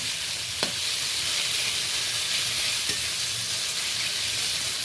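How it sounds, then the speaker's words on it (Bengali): Shrimp frying in a pan and stirred repeatedly, a loud continuous sizzle with occasional scraping clicks of the spatula, close up and alone. "চিংড়িটা বেশ কয়েকবার নাড়ানাড়ির ফলে বেশ ভাজা ভাজা হয়ে গেছে"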